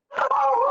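A dog gives one short, tonal bark that trails into a yelping howl, close and fairly loud, heard over the open microphone of a remote county commissioners meeting.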